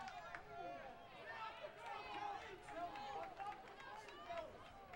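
Crowd at a women's college soccer match between Utah and Washington State, a faint distant murmur of fans beneath a commentator's voice, with scattered calls rising and falling throughout.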